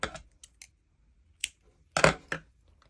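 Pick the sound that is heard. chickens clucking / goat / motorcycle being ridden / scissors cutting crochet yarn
scissors cutting crochet yarn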